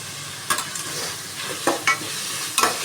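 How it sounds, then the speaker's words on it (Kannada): Tomatoes frying in oil with chilli and turmeric powder for mushroom pulao, a steady sizzle punctuated by a few distinct scrapes of a spatula stirring the pan, close and without voices. "ನೀಟಾಗಿ ಫ್ರೈ ಮಾಡಬೇಕು."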